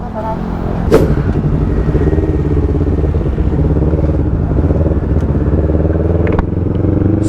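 Several sport motorcycles, a Yamaha MT-03, a Yamaha R3, an R15, a Kawasaki Ninja 650 and a GS 850, rumble loudly and steadily close by as the group sets off, with a sharp clatter near the start.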